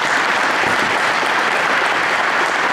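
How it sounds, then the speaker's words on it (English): Banquet guests at a touchdown club awards night clap loudly and continuously, a dense, unbroken wash of applause across the whole stretch. "Can you give her a round of applause, please?"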